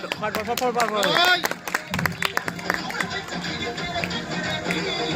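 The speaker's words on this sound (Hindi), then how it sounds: "शाबाश ताली मारो" Audience clapping at a Ram Leela stage performance, scattered rapid claps mixed with crowd chatter and shouting voices, a rising tone and music-like sounds near the start, busy and moderately loud.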